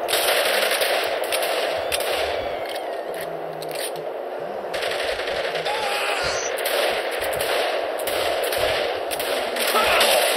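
Rapid automatic gunfire from the video game Saints Row the Third, dense bursts of shots crackling almost continuously and loudly over the whole stretch, with scraping mechanical clatter mixed in.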